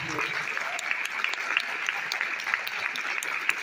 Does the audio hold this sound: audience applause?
yes